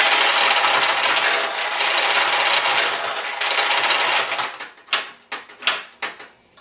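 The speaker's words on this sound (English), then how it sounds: "And now we've emptied all those balls out." Balls from the jackpot assembly of a Nishijin pachinko machine pour out in a loud, dense metallic rush of rattling for several seconds, then thin into a few separate clattering bursts as the last balls drop.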